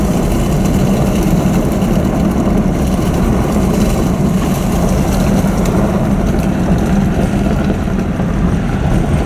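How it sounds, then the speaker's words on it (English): A Jeep engine running, a loud, steady low rumble with broadband mechanical noise that holds constant throughout without any pauses. "Shawn driving the Jeep."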